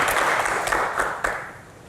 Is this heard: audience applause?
yes